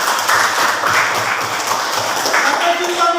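A classroom of children applauds together, a dense continuous clatter of clapping hands filling the room for a few seconds.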